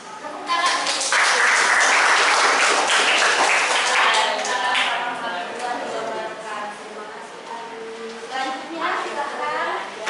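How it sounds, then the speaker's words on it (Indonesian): A gathering at a teacher-training session claps together, a dense wash of applause swelling loudly at first and then thinning out as voices take over underneath in the later seconds. "Tepuk tangan."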